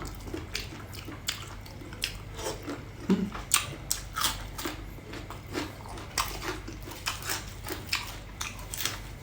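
Repeated crisp crunching bites and wet chewing of papaya salad with fermented fish sauce, close up, in an irregular rhythm with no talking.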